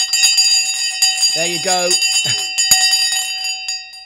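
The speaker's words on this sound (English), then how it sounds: "Let's ring the bell." An opening bell rung to start a live stock market trading session, its bright ringing sustained through the whole clip while a voice speaks briefly over it.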